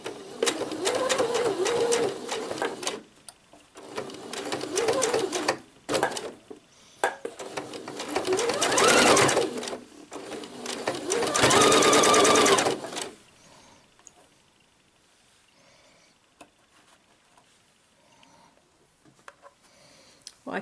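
Sewing machine stitching the gathered skirt of a shirred elastic summer dress, running in several bursts of rapid whirring, close and loud, then stopping into near silence.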